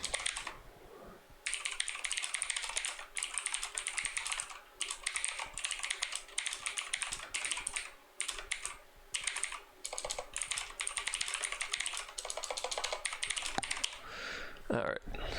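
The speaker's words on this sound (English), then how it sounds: "I just got this mechanical keyboard and it is loud as balls" A loud mechanical computer keyboard typed on in fast, dense bursts of sharp clacking keystrokes, close and continuous with a few short pauses.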